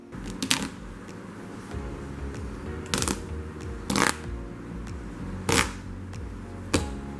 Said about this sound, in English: you can take off the two corners which have the strongest stitches and just go ham and rip it right off